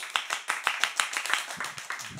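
A small group of people clapping in quick rhythmic bursts, around a dozen crisp claps, moderately close and fairly quiet, with no talking over it.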